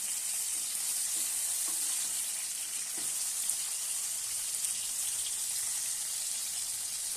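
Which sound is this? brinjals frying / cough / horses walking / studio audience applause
brinjals frying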